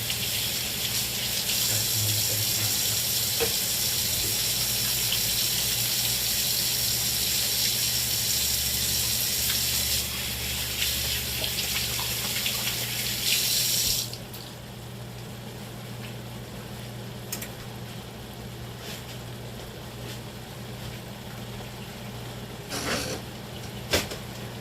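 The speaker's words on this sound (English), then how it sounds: "Wash my hands again" A kitchen tap runs steadily as hands are washed beneath it, a loud continuous gush that drops off sharply about halfway through, leaving quieter room noise and a few faint clatters.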